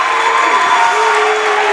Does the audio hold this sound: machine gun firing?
no